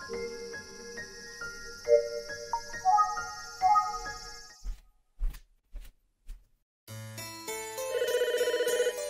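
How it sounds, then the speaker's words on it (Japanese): A telephone rings in the Famicom Tantei Club detective video game as a short electronic chiptune ring. It comes in near the end, after game music and a few soft clicks, and is steady and moderately loud. "電話が鳴っている。"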